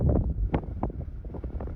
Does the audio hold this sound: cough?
no